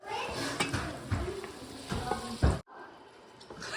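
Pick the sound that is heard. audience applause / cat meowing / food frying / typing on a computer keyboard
food frying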